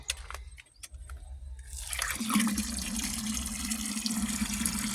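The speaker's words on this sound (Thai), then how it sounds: "เราก็ปล่อยน้ำเข้าในอ่างนะคะ" Water gushes steadily from a tap into a bathtub, a continuous broadband rush that starts after a couple of seconds of quieter trickling and dripping, close and fairly loud with no talk.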